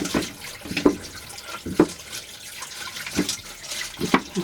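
Coarse red tumbled pebbles, still gritty with slurry from the 80 grit stage, are rinsed under a running tap, with a steady wash of water broken by several knocking clatters of stones. No one speaks.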